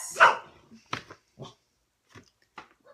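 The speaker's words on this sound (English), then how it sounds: "And ignore the dogs." Dogs barking indoors in a home: one loud, close burst of barks, then several shorter, quieter barks and yips spaced out over a few seconds, with no talking.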